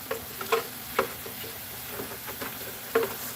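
A spatula scraping thick puréed butternut squash out of a small blender, giving short irregular scrapes and taps close by that are fairly quiet and come in a loose rhythm.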